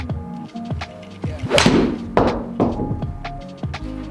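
A Mizuno MP20 MMC cavity-back iron strikes a golf ball with a solid, loud thunk, followed by a couple of duller thuds and knocks as the club settles, with no talking.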